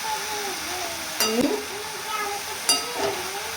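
Potato bhaji stir-fried in oil over a high flame gives a steady sizzle, broken by two bright clinks of a spoon against the pan, with someone speaking over it.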